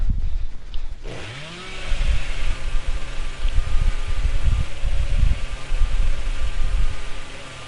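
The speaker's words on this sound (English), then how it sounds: "that's a brutal chainsaw attack there." A Leatherface chainsaw revs loudly in Dead by Daylight, a steady roaring buzz with rising and falling engine surges that runs through the whole stretch after a brief opening.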